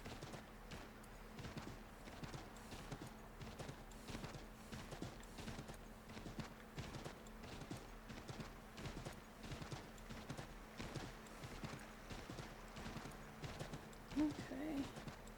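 Horse hooves gallop steadily in Assassin's Creed III, a fast, continuous clip-clop rhythm that runs the whole way at moderate loudness, with a low steady hum underneath and a brief louder knock near the end.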